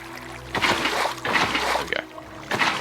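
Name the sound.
water splashing from a water source in the video game Minecraft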